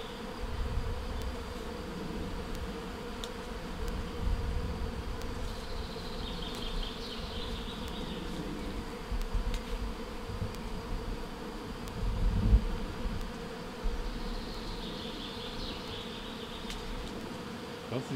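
Honey bees buzz in a steady, dense drone throughout, with a few individual insects passing nearer at times over a low rumbling background.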